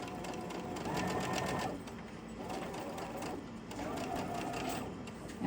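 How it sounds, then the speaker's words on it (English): A sewing machine runs close by in a rapid, steady stitching rhythm, pausing briefly twice before starting again, with a quiet voice underneath. "You just constantly add your fabric and you just keep sewing."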